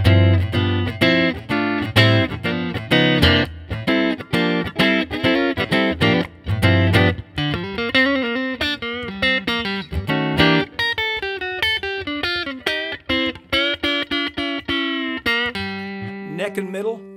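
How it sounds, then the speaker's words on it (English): Crook Custom S-Style electric guitar with custom-wound Voodoo Sweet Modern pickups and five-way switching, played clean and loud: punchy chords at first, then single-note melodic runs and ringing notes, alone without talk. "The pickups are custom wound Voodoo Sweet Modern pickups with five-way switching, and it sounds like this."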